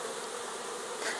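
A swarm of honey bees fills the air with a dense, continuous buzzing hum, close and steady throughout, with no voices.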